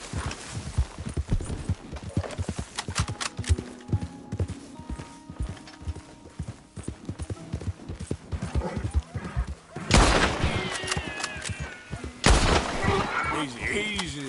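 A horse gallops in Red Dead Redemption 2 with a steady rhythm of hoofbeats under in-game music and ambience, with a couple of louder bursts toward the end.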